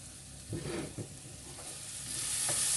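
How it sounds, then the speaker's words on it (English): Cooked rice tips into a frying mix in a pan, a couple of soft thuds and scrapes over a gentle sizzle that swells toward the end. "now I'm going to start to add my rice, my cooked rice, to my mix over there"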